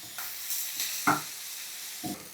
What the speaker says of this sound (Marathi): एक मिनिटभर तरी हे परतायचं.